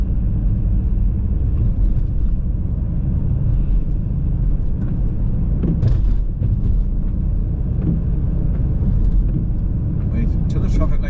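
A car drives in town traffic, its engine and road noise forming a loud, steady rumble from inside the cabin, with a few sharper knocks and some brief talk.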